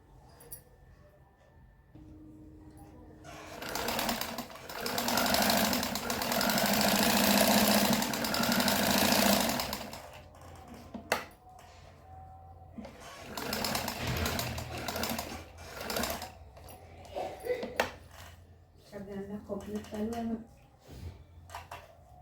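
A sewing machine runs a doubled line of straight stitches on a betel-leaf-shaped blouse, whirring in two long bursts with shorter starts and stops between them, fairly close.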